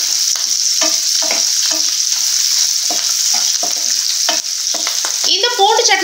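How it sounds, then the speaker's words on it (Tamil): Garlic cooks lightly in a pan for garlic chutney, giving a loud, bright, continuous sizzle cut by short scraping stirs, with a busier clattering burst near the end. "ரொம்ப பிரவுனா வதங்க கூடாது சும்மா லேசா வதங்கினா போதும் ஒரே ஒரு நிமிஷம் மட்டும் இத வதக்கி"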